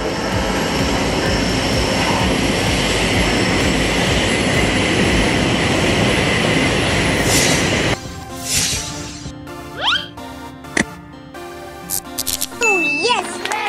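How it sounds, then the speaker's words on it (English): A freight train rumbles loudly and steadily for about eight seconds, a dense continuous roar, then drops to quieter rail noise with scattered squeals and clanks. "A freight train is a train used to carry goods, as opposed to passengers."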